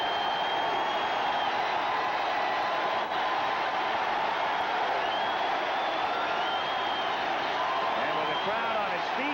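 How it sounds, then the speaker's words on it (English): A baseball stadium crowd at an Expos–Mets game roars steadily and swells while waiting on a strikeout pitch, a dense, distant wall of cheering under a play-by-play announcer's voice. "Crowd rising as one now"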